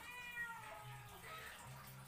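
Young wild cat kitten about two months old meowing, a few short high-pitched cries close to the microphone, fairly faint over quiet background noise.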